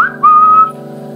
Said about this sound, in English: an ability to whistle